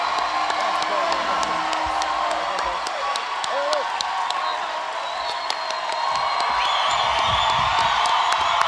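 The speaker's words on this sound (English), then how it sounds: "Folks, big round of applause for Jason Isaacs." A fan convention crowd claps, cheers and whoops for the actor Jason Isaacs at FanX Fall 2019, a steady dense roar of applause that stays loud throughout, with scattered shouts and voices mixed in.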